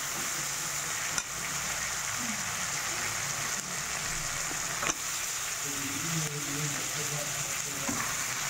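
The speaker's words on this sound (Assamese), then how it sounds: "মাংসটো ভাজা হৈ গৈছে" Chicken meat fries in a pan with onion and spices, a steady close sizzle punctuated by a few sharp stirring scrapes and clacks, with faint bubbling underneath.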